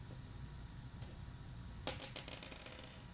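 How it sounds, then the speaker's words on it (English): A PolyHero D4 dagger-shaped die rolling and clattering on a hard surface, a brief burst of sharp, bright clicks and taps near the end, alone with no talk. "having watched the dice roll, which I thought was fun"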